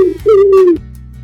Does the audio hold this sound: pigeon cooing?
yes